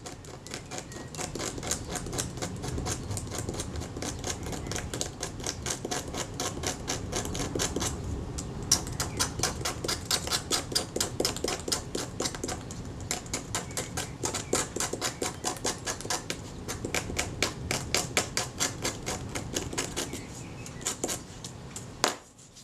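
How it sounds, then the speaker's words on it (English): Scraper working off very thick, multi-layered old adhesive from a surface: a rapid, steady run of close, rasping scrape strokes, continuous and fairly loud, with a brief pause midway. "I'll see if it'll scrape down."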